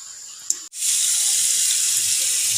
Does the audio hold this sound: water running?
yes